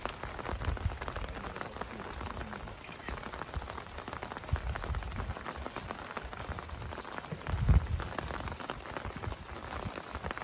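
Rain falling outdoors at a pomegranate orchard, a steady broadband patter with scattered close drops and a brief louder thump near the end, fairly loud and with no clear speech.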